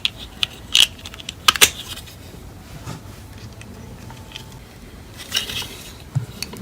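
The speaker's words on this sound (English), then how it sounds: "So pick up a bearing, slide the bolt in" Small metal parts, a bearing and bolt for a Piper 3D printer Y roller, handled up close: sparse sharp metallic clicks and clinks in short bursts with quiet gaps between.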